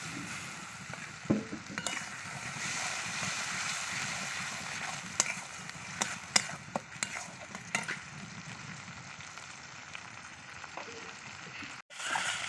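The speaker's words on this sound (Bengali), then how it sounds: "মশলা কষানোর জন্য সামান্য জল দিয়ে দিলাম" Spices simmering in a pan with a splash of water while being stirred for a home-cooked chickpea-lentil curry, a steady close sizzle with scraping clinks of a spoon throughout.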